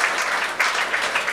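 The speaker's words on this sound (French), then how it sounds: "Vous pouvez applaudir." Comedy show audience applauding a stand-up comic, a short dense burst of clapping heard alone at close range.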